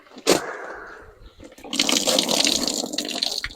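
Water pouring out of a junkyard Chrysler Sebring convertible, a short splash followed by a steady rushing gush that swells and continues close by, with a few knocks and clunks around it.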